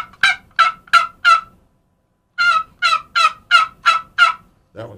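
Box call imitating a hen turkey's yelp: two quick series of sharp, raspy yelps, four notes then seven, with a brief pause between, loud and close, with no talk over them.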